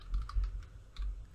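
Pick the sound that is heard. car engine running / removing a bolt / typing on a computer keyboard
typing on a computer keyboard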